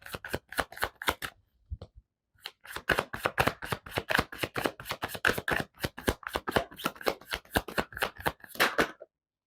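Love oracle cards are shuffled by hand for a tarot reading, a rapid run of crisp, close riffling flicks with a brief pause early on before the rhythmic shuffling resumes steadily.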